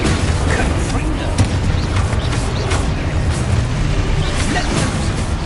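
Confringo fire spells cast in Hogwarts Legacy burst in a dense, continuous barrage of booming explosions and mechanical crackle, loud and close, with a voice shouting spell names over the din.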